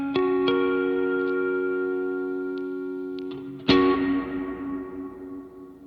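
Guitar notes feed a Strymon NightSky reverb pedal set to filter modulation, sustained reverb wash shifting subtly and slowly, then a fresh strummed chord blooms near the end and decays, no voices present.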